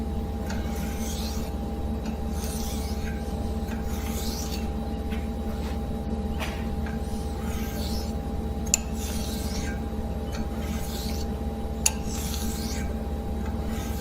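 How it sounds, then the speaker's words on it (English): A straight razor laid flat and drawn across a coarse diamond hone to set the bevel, giving a steady, close, continuous rasping rub over a constant low hum, with a couple of sharp ticks. "Now I'm laying the razor flat on the hone and setting the bevel for the first time."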